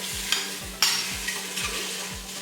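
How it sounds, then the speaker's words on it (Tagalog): Chicken and onion cooking in a dry pan with no oil, a soft steady sizzle broken by several light scraping stir strokes at a close, even rhythm, with a low hum underneath and no talking. "put the sibuyas or the onion. Okay? And then, without oil, dump the chicken."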